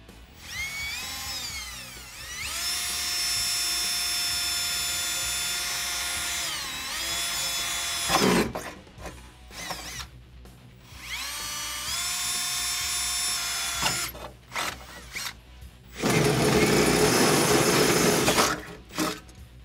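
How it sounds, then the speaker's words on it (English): A power drill whines loudly in long bursts, pitch rising as it spins up, drilling holes in a 2005-2014 Mustang coupe chassis for a rear X-brace, with short pauses between runs and a rougher grinding stretch near the end. "now we're ready to drill our holes"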